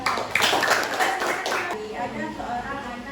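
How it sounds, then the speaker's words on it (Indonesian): Teachers in a classroom session clap for a group about to present a role-play, a burst of hand claps that fades after about a second and a half, with voices continuing quietly beneath. "Tepuk tangan, sudah semangat"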